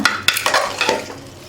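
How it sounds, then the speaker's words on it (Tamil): Sweet pongal rice being stirred with a ladle in a pot, a series of close scraping, squelching strokes with sharp clinks of metal on the vessel, fairly loud and uneven in rhythm, no voices. "கரண்டிலே நல்லா வந்து நீங்கள் இப்படி நல்லா குழச்சி விட்டுக்கோங்க"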